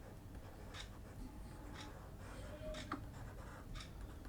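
Pen or chalk writing out a statistics formula, soft scratchy strokes in short bursts roughly every second, faint and close, with no voice over them.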